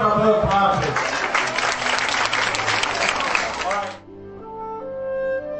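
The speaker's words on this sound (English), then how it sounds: "Another round of applause" An audience at a charity day in Nigeria bursts into sustained, dense applause that holds loud for about four seconds, then cuts off abruptly into a quieter tonal background.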